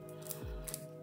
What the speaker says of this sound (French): je viens couper cette partie-là